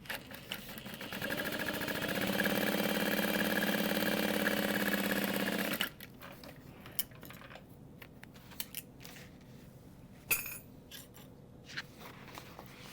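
A sewing machine sews a handbag in one steady run of a few seconds, then stops, followed by quiet handling clicks and small knocks.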